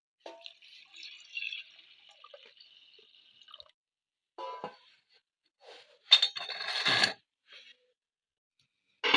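Water is poured into a cooking pot for a jackfruit seed and lentil dal curry, heard as a few short splashing bursts separated by quiet gaps, with the loudest pour near the end.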